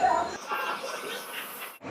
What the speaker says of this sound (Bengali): এই হচ্ছে ট্রেন, দেখতেই পাচ্ছ চলে আসছে আমার শালিমার স্টেশনে